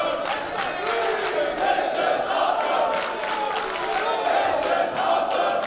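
A wrestling crowd at a German pro wrestling World Cup qualifier chants in steady rhythmic unison, a loud, continuous arena chant with no commentary over it.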